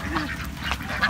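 Several ducks quack close by in quick, overlapping bursts around a person on a small farm, loud and busy with some voice mixed in.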